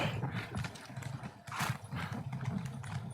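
Horse hooves clip-clop in the game Morrowind as a steady, rapid patter of soft knocks. The hooves sound close and continue evenly under a faint background.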